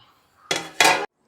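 A lid goes onto a pot of rice cooking for a home meal, with two close, clattering metal knocks a moment apart and then quiet.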